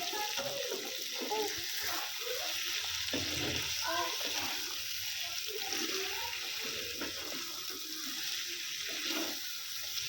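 Chicken fries in a pan for a red, spicy chicken kadai, making a steady close sizzle and crackle throughout, with someone speaking over the cooking.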